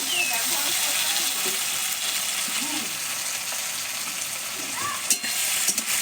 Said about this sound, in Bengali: পেঁয়াজের সঙ্গে আদা রসুন একটু ভেজে নেবো কাঁচা গন্ধটা যাতে চলে যায়